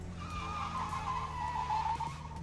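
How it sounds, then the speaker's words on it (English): Car drifting in the video game Unturned, a steady tire skid squealing continuously over a droning engine, loud and close throughout with no talking. "you can drift."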